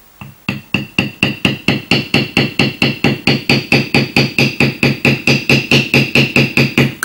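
Rapid, evenly spaced mallet strikes on a Barry King Thumbprints matoir beveling tool pressed into leather, about four crisp, loud, close knocks per second running continuously without pause.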